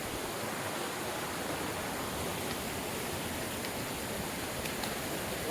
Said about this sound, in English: We got another creek to cross.